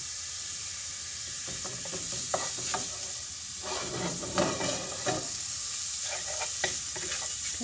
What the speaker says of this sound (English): once the bacon is fried up, I am going to add the onion